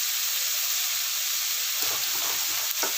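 Onions frying in a pan, a loud, dense, continuous sizzle and hiss up close, with a few faint stirring scrapes near the end, no talking.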